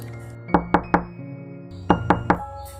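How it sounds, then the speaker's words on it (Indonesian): Knuckles rap on a teak wooden door in two quick sets of three sharp knocks, with a brief pause between sets and soft background music underneath. "Kembali ku ketuk pintunya."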